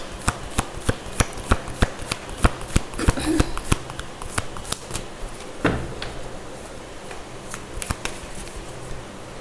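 Tarot cards are shuffled in the hands over and over, sharp riffling snaps and soft slides arriving in an uneven rhythm, close and fairly loud, with a voice talking now and then in between.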